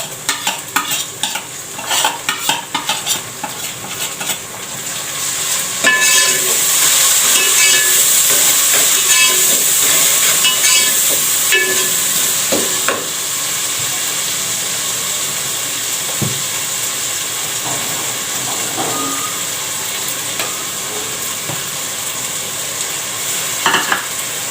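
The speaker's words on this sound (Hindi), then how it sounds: "इसमें ये मसाला मैं भून रही हूँ, टमाटर ज़रा सॉफ्ट हो जाते हैं मेरे" Spice masala frying with tomatoes in a pan, a loud, steady, close sizzle and hiss with stirring scrapes running throughout, no talk.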